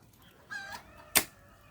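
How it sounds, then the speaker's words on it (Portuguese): A rooster crows at one in the afternoon on a rural smallholding, a single faint drawn-out call at mid distance, followed by a sharp close knock, with no talk. "E tem galo cantando ainda."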